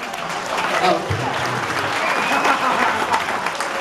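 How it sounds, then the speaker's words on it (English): Guests Pam and Allan, the furthest-travelled visitors at a centenary dinner and dance, receive warm, sustained applause from a room of diners, with voices audible beneath the clapping. "give them a massive round of applause"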